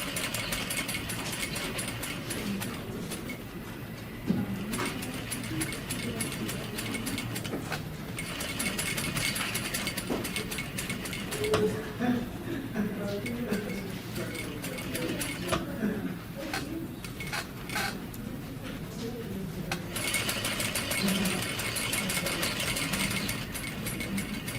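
A sewing machine basting a fabric patch pocket at a quarter-inch seam runs with a continuous fast mechanical chatter that sometimes pauses and restarts, close by and fairly loud.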